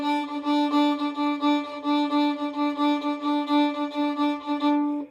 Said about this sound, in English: This is the sound of a jig.